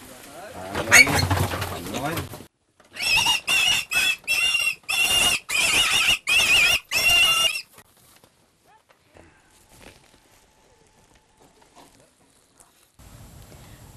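Pigs squealing at a highland pig market, a run of loud repeated squeals in quick bursts after an opening squeal, then fading to quiet market noise.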